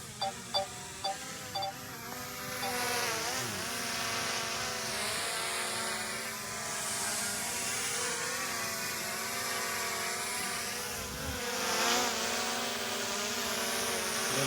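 A DJI drone hovers and descends over an open field, its propellers making a continuous buzzing whine that holds steady and loud for the whole stretch, with slight shifts in pitch as it moves.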